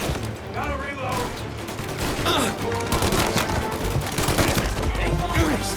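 Sustained gunfire fills a Mafia shootout on PS5, with rapid overlapping shots and bursts from several weapons crackling without pause over a dense, loud battle bed, while voices call out faintly underneath.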